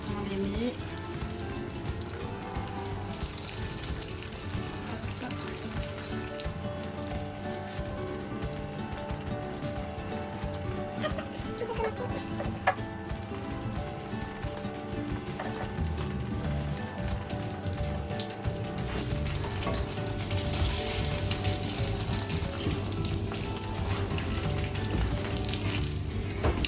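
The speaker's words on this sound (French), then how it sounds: "on va faire frire nos samosas dans de l'huile bien chaude." Beef samosas fry in hot oil, giving a steady, dense sizzle and crackle that runs loud and continuous from start to finish with no talk over it.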